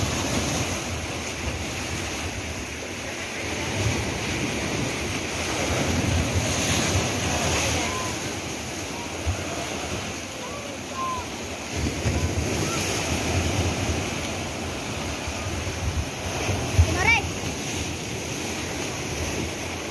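Ocean waves wash steadily onto a beach on Lantau Island, Hong Kong, with gusts of wind buffeting the microphone and a faint voice now and then.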